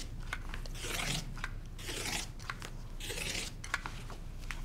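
Quilt fabric strip sets being cut, with several crisp bursts of slicing or rasping against the cutting surface at an uneven pace, close and fairly quiet.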